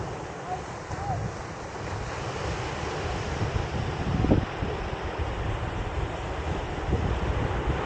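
Strong ocean surf roars continuously on a La Union beach, mixed with gusty wind buffeting the microphone, with a louder wave surge partway through.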